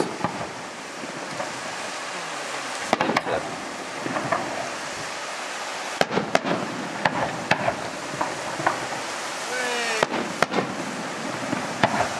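Scattered sharp fireworks bangs, some in quick clusters, echo off nearby cliffs at Peel, Isle of Man, over a steady wash of surf-like background noise.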